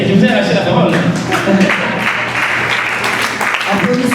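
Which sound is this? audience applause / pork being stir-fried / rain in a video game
audience applause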